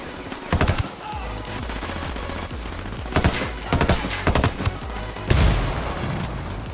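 Gunfire in the video game Ghost Recon Wildlands comes in rapid automatic bursts and single cracks, with several loud volleys and booms at irregular intervals over a low game background.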